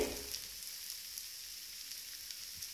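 Wheat flour dosa frying in oil on a hot griddle over a medium flame, giving a steady, quiet sizzle with faint crackle throughout and no talking.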